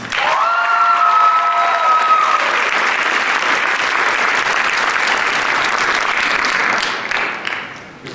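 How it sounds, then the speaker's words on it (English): Sustained applause from a school honors night audience celebrating the juniors, loud and steady for about seven seconds before tapering off, with a few cheers and a brief tonal whistle-like sound early on. "A big round of applause for our juniors"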